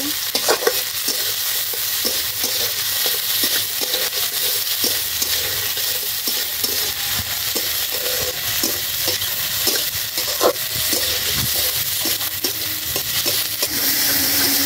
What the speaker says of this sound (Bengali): এবার এরপরে ছেড়ে দিব টমেটো কুচি, মশলাটা সুন্দর করে কষিয়ে নিব।